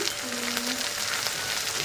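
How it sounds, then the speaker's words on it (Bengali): Fish frying in a pan at home, a steady, fairly loud hissing sizzle that runs continuously and evenly, with a brief faint tone passing behind it. "মাছগুলো ভাজা হোক"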